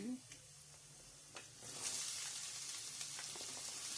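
Quiet frying sizzle with faint clicks, growing louder and hissier partway through as onion pieces are stirred in hot oil and bottle gourd pieces are added.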